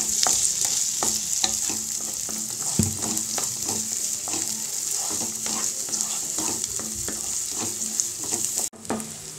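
Chunks of elephant foot yam and onion sautéing in a pan, a steady close sizzle broken by frequent rhythmic scraping stirs and clinks, with no talk, ending in a brief clatter.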